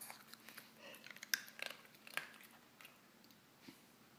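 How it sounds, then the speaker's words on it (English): A Shih Tzu chews food close by with soft, irregular crunching and wet biting clicks, faint and intermittent in a quiet room. "You should chew it, Lacey."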